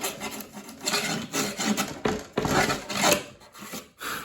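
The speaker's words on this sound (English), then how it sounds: "clean the rest up with a chisel, preferably a sharp one" A chisel cleans up and pares wood while building garage cabinet shelving, giving close, irregular scraping and rasping strokes in short bursts with brief pauses between them, and no talking.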